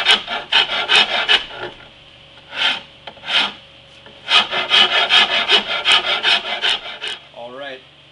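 A rasp files an Osage orange bow limb flat in bursts of rhythmic rubbing strokes, close and loud, with short pauses between runs.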